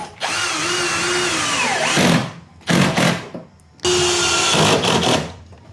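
Power tool driving bolts into a flight-sim cockpit mod for Thrustmaster TPR pedals, three loud close whirring bursts of rising and falling pitch separated by short pauses, with no speech.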